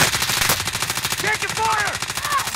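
Rapid automatic gunfire in the video game Fortune's Keep, shooting at a bell tower, crackles in dense continuous bursts throughout, with game sound effects chiming in the middle.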